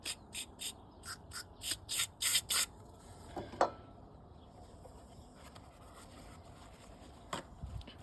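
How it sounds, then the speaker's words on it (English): A quick run of sharp aerosol degreaser spray bursts aimed into a Honda Prelude idle air control valve, followed by faint intermittent scrubbing and rubbing close to the part, with a couple of brief louder knocks. "So you just want to spray it in there and give it a wee scrub and let it self drain out."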